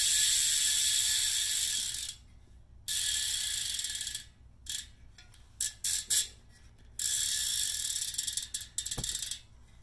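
Freewheel ratchet of a Wasp bicycle rear wheel hub clicking in fast continuous buzzing bursts, stopping and starting several times with short slower clicking runs between, close and fairly loud.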